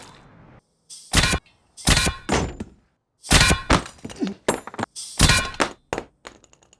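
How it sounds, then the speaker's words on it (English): A captive bolt gun from a film scene, fired in a series of loud, sharp thunks and metallic clanks, spaced irregularly over several seconds with near silence between bursts. "That, my friends, is a captive bolt gun."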